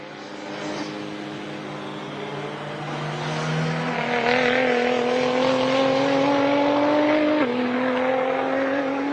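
A race car lapping at World Time Attack Challenge holds a loud, steady engine note that climbs in pitch through a gear, drops briefly at a shift, then climbs again, close and alone.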